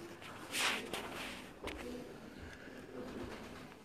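Faint, soft cooing of Sialkoti and Kasur breed pigeons with low murmuring calls, accompanied by light shuffling and rustling movement close by.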